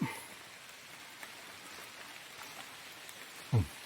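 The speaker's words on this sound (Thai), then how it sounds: "ฝนก็ตกอีกแล้วครับ" Rain falls outdoors in rural Thailand during mushroom foraging, a faint, steady hiss of patter with a couple of brief, sharp knocks near the start and end.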